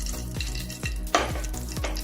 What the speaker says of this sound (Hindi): ये जो हमारे बादाम हैं इनको पहले रोस्ट कर लेंगे हल्का सा घी में, लाइट ब्राउन होने तक